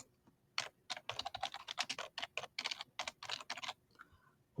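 Quick bursts of keystrokes on a computer keyboard as a webhook name is typed, close and clear, in uneven clusters with short pauses, then a faint click near the end.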